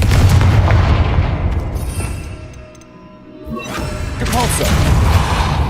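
The Confringo spell in Hogwarts Legacy goes off as loud booming blasts with whooshes and crashing debris, dipping briefly mid-clip before another heavy burst, with game voices beneath.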